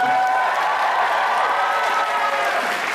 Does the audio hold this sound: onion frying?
no